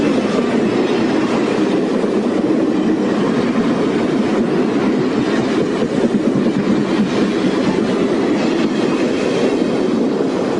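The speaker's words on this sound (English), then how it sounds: "Amtrak's eastbound Coast Starlight skims past on its journey" Amtrak's eastbound Coast Starlight passenger train, running between Los Angeles and Seattle, roars past at close range in a loud, steady rush of wheels and rail noise with faint clickety-clack throughout.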